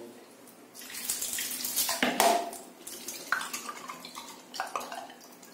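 Water gushes and splashes in a TOTO toilet during a flush test, rising into a loud rushing spray that swells and eases in bursts over several seconds, close by and with no voices.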